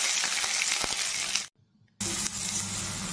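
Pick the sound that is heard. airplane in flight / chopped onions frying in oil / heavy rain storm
chopped onions frying in oil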